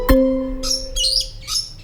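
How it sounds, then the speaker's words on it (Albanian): A pet parrot's call: after a brief ringing tone, three short, bright squawking chirps come in quick succession, close and fairly loud, with no talking. "Papagalli."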